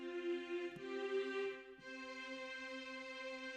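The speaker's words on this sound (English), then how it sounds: "These are going to be the perfect intervals, and they will sound like this." Sustained harmonic tones sound together as a perfect interval, briefly shifting partway through before settling into another steady perfect interval.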